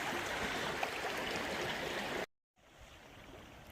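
A small river swollen with recent rains rushes along in a faint, steady watery hiss, briefly cutting out before the flow continues more quietly.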